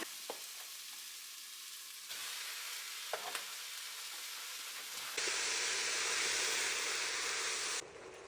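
Minced beef sautés in a pressure cooker on its sauté setting for a bolognese, giving a soft, steady sizzle and hiss with occasional stirring scrapes that swell into a louder, brighter hiss near the end.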